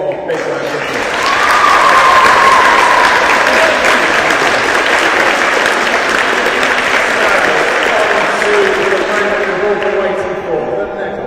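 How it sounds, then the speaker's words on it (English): A crowd's loud, sustained applause at a School Games wheelchair tennis ceremony swells within the first second and holds steady for about ten seconds before easing off, with a few voices and cheers mixed in. "Let's give everyone one more big round of applause."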